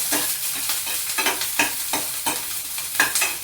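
Green chillies frying in hot oil, a steady sizzle with repeated scraping strokes of a spoon stirring through the pan, close and fairly loud, no voices.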